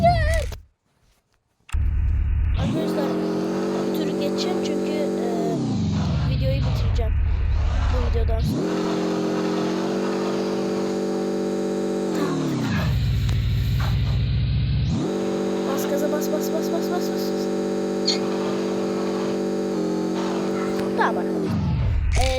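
A car engine in a Google car video game revs up in long, steady sustained surges with short drops between them, loud and close, while a person talks over it.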